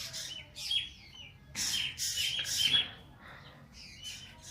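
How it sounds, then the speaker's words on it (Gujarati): Small birds chirping around a house, taken to be sparrows, with bright, squeaky bursts of twittering in several clusters. They sound fairly close, and there is no talking. "તમને મસ્ત ચકલીનો અવાજ આવતો જશે જો"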